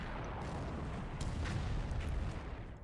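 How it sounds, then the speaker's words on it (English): A ship's deck explodes in the naval war game War in the Pacific, a dense, rumbling blast of noise that swells and holds for a few seconds at moderate loudness. "Severe casualties from deck explosion."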